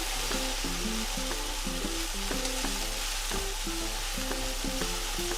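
Okra and spices stirred and sizzling in a pan, a steady close frying hiss with repeated scraping strokes of the spoon, no voices.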